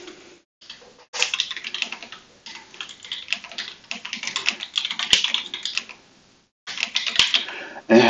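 Close, brisk key clicks from a Voyager keyboard come in uneven runs with brief gaps between bursts, and nobody speaks.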